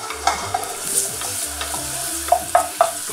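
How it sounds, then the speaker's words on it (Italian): Garlic frying in hot olive oil in a pan gives a steady close sizzle, with a utensil stirring and scraping against the pan in a few sharp clicks and no talking. "andiamo ad aggiungere per prima cosa l'aglio e lasciamolo dorare"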